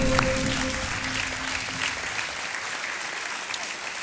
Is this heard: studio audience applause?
yes